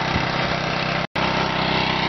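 DC generator engine running while it charges lawnmower batteries, a steady close mid-pitched drone, loud and even, broken by one very brief dropout near the middle.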